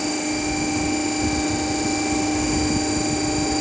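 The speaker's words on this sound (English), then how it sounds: "you may have heard that speed of the machine has changed while setting this field current" A DC shunt generator set hums steadily up close in a machine lab, a constant electrical whine and motor drone with broadband rumble, its pitch drifting slightly as the running speed shifts.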